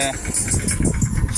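A tractor engine runs at a farm field ready for coriander sowing, a close, steady rumble heard under someone talking for a brief moment.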